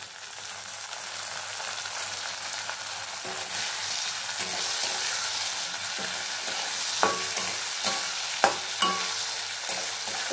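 Tomato fries in an oiled pan with a soft continuous sizzle. A spoon stirs and scrapes it, first quietly, then in sharper clacks toward the end.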